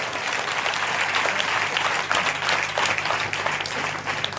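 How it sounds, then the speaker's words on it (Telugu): A church congregation claps together in steady, dense rhythmic applause that carries on evenly from start to finish, fairly loud and close, with no talk over it. "ఎందుకు చప్పట్లు కొట్టమన్నానో తెలుసా?"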